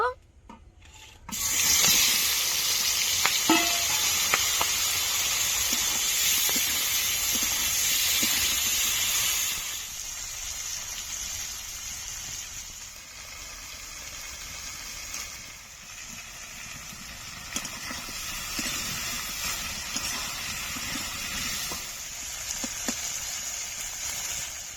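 Freshwater giant prawns coated in salt and turmeric fry in hot oil in an iron wok, giving a loud, steady hiss and crackle that eases to a softer sizzle halfway through, with no voices.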